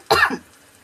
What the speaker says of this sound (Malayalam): മുളക് പൊടി എണ്ണയിൽ കിടന്ന് വേകുമ്പോൾ അതിൻ്റെ ആ എരിവ് എനിക്ക് ഇതാവുകയാണ്, അതൊക്കെ ചുമയ്ക്കാൻ വരുന്നു